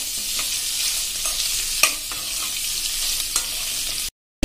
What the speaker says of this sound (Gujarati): એને આપણે 1 મિનિટ આ રીતે ચલાવી લેશું.